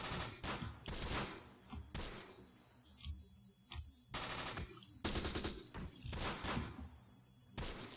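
Bursts of automatic gunfire and rifle shots rattle through a World War II tactical battle in the game Close Combat: The Bloody First, loud repeated volleys in rapid clusters separated by brief lulls with scattered single shots.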